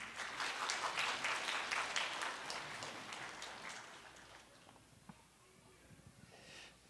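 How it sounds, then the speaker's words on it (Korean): A church congregation at a Sunday afternoon forum service claps to welcome an evangelist, loud at first, then fading over several seconds to a quiet room with a few faint sounds. "우리 박유한 전도사님 나오실 때 박수로 환영해 주시기 바랍니다."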